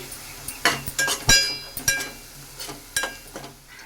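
Onions frying with cumin and garlic in a pan for a fish curry, a soft sizzle under close, clinking spoon strokes that scrape and tap against the metal in an uneven rhythm.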